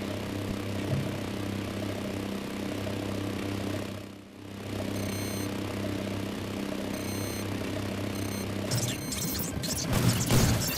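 Helicopter in GTA Online during the Cayo Perico Heist, a steady droning rotor and engine hum held at even loudness throughout, briefly dipping near the middle, with clattering game noises piling up toward the end.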